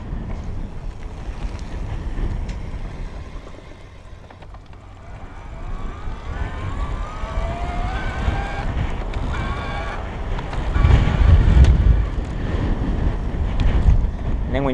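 A Haibike XDURO Trekking RX electric bike rides in turbo mode, its motor whine rising and falling in pitch through steady, heavy wind rush and rumble.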